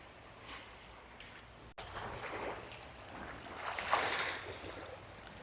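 Sea waves washing against rocks along a clear-water shore, soft surges rising and falling with a louder splash near the end, fairly close and moderately quiet.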